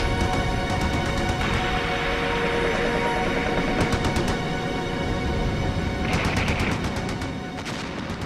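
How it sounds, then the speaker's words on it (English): Sustained burst of automatic gunfire with rapid repeated cracks over a dense, noisy background, loud throughout and without speech, suited to a World War I battle along a canal bank. "The English then blasted the banks with machine gun fire."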